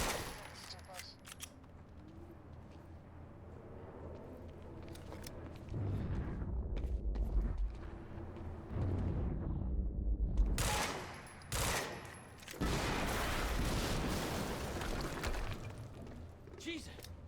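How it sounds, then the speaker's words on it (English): Explosions and bursts of gunfire in the video game Quantum Break rumble and crackle over a loud continuous din, with heavy blasts around the middle and end. "we just heard an explosion near the harvesting perimeter"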